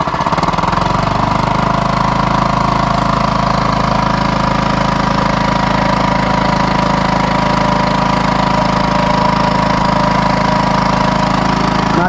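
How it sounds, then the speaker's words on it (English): A Honda 2.3 HP gas outboard motor runs steadily at quarter throttle, a continuous close, loud engine drone with a low hum that holds without a break, and no one speaks. "So let's give her about quarter throttle and check the noise level here."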